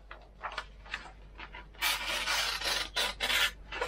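Knife edge slicing through 40 mm manila rope, rough rasping strokes growing longer and louder, close and dry with no talk.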